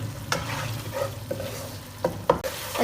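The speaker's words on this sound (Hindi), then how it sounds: "अब इनको इसी तरह मसाले को हम भून लेंगे फ्लेम हाई करके" Achari masala with tender tomatoes fries on high flame for an aloo baingan dish, with a bubbling sizzle under repeated sharp spatula scrapes and knocks against the pan.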